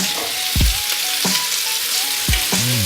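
Diced pumpkin flesh hitting a hot soup pot for pumpkin and chicken soup, giving a steady close sizzle broken by a few short knocks of a spoon stirring against the pot.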